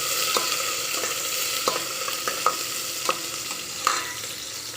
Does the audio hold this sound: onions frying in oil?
yes